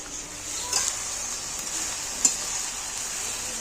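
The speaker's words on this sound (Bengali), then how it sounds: "শাক ভাজা হয়ে এসছে?" Saag, leafy greens, frying in a pan gives a steady soft sizzle throughout, with a couple of faint stirring clinks, close and fairly quiet.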